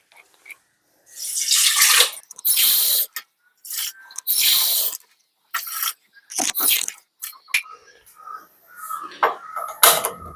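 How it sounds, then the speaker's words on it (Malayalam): Water is poured into a cooking pot holding crushed garlic in a home kitchen, coming in several splashy bursts broken up by the clatter of dishes and utensils. "അത് കഴിഞ്ഞ് നമുക്കൊരു 3 ഗ്ലാസ് വെള്ളം അതിലോട്ട് ഒഴിക്കാം."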